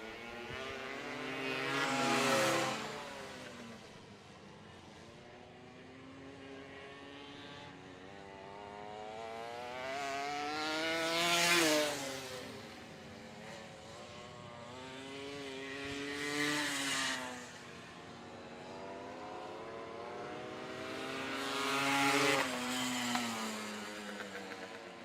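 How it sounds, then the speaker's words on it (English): Kawasaki and Yamaha motorcycles race around an evening track, their engines rising and falling in repeated high-revving passes roughly every five seconds, loud as each bike sweeps by and fading into a distant drone between passes. "Halfway flags out. One to go for Ken and his Kawasaki."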